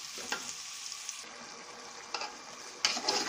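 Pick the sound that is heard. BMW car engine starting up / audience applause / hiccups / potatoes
potatoes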